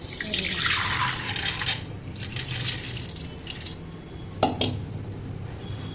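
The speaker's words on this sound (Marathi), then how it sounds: "चाळणीवर काढून घेऊ, पाणी निथरून घेऊ याच्यातलं सगळं" Water splashing and trickling out of soaked khapli wheat through a metal sieve, with a brief clink of metal, no voices.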